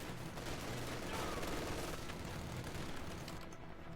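Machine gun fire in a Company of Heroes 2 match, heard as continuous rattling bursts mixed with other battle noise, fairly faint and steady across the whole stretch.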